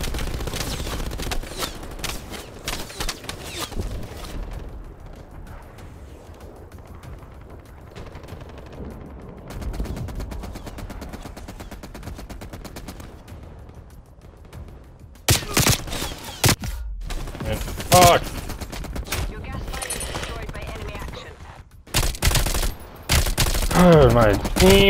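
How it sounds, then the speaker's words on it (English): Gunfire in Call of Duty: Black Ops Cold War comes in loud bursts of automatic fire and single shots, broken by quieter gaps and a sharp return of shooting near the end. "He's shooting right in front of me."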